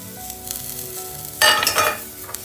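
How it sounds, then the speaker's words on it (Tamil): Grated coconut sautéing in oil for mutton baharat masala, a soft steady sizzle that swells into a louder crackling burst of frying and stirring midway, then eases off, with no voices. "அரைப்பு தேங்காய் அதையும் போட்டு வதக்கிட்டுலாம்"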